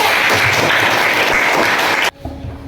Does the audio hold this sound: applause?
yes